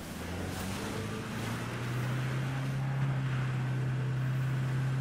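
A vehicle in PUBG drives along, its steady low engine drone holding close and constant under rushing wind and road noise, rising slightly as it speeds up partway through.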